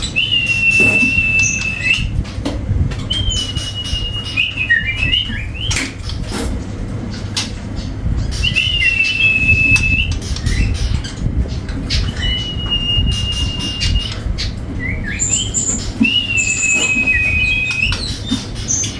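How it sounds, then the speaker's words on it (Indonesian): A murai trotol magpie robin songbird sings clear, whistled phrases repeated every few seconds over a steady rumbling background of noise and clatter. "Nah, Mas Arul, ini ada yang namanya murai trotol ini yang burungnya udah ngeplong ya."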